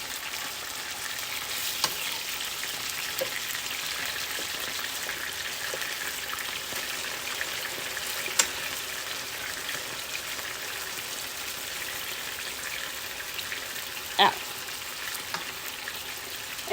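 Chicken and mushrooms fry in a pan with a steady, fairly quiet sizzle, broken by a few sharp crackles and pops.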